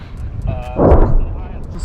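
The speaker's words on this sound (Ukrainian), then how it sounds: "Постріл" A single heavy artillery boom from a Ukrainian armed forces strike on an enemy position thuds out at a distance, a deep muffled blast rising under background voices and noise.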